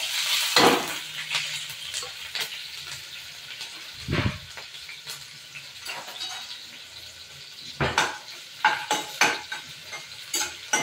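Garlic and chopped green chillies sizzle in an iron kadhai while a spatula scrapes and stirs, with sharp metallic strokes standing out above a steady frying hiss.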